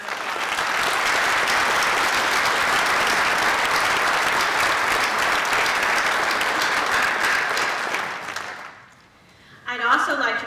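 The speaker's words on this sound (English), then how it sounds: "let's give them a round of applause" Sustained audience applause fills a college scholarship award ceremony, steady and loud for about nine seconds before dying away, followed by a brief burst of voices.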